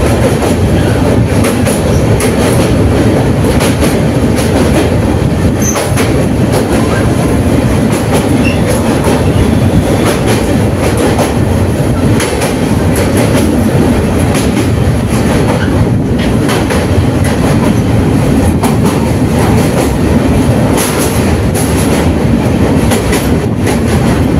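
A Barddhaman-to-Sealdah train rumbles loudly and continuously along the rails while crossing the Bally Bridge, heard from on board, with a steady rattling clatter and occasional metallic clicks.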